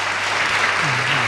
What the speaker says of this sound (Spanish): de nuevo reiteramos el aplauso